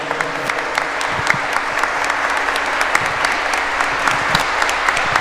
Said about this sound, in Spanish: le damos un aplauso a nuestros hermanos, al Padre Juan de Dios, al Padre Jesús